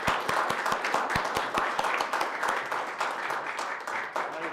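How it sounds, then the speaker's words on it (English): Steady audience applause for a group of committee women at a meeting, a dense wash of clapping with a few sharp nearby claps, holding at an even level before easing slightly at the end. "all deserve a great round of applause"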